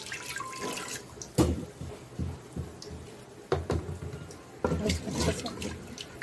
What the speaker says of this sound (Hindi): इस कुकर में हम डालेंगे थोड़ा सा पानी।